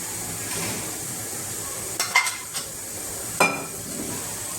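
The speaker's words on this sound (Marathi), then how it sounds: "आपला तवा पण छान असा गरम झालेला आहे आपण त्यावर तेल घालून घेणार आहे थोडंसं" Oil sizzling on a hot griddle while cooking kothimbir vadi, a soft steady frying hiss with a few sharp metallic clinks of a utensil against the pan.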